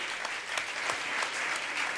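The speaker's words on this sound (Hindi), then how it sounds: "जोरदार ताली बजाकर मेरी बात का आप समर्थन करें।" An audience at a Jain religious discourse applauds loudly, a dense sustained clapping with no voices over it.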